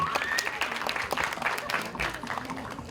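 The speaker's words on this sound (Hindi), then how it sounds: "एक बार जोरदार ताली होनी चाहिए अनुराग के लिए।" At the Border 2 teaser launch on Vijay Diwas, the audience breaks into brisk applause, sharp individual claps stacking into a lively patter close by, with a voice carrying through the clapping.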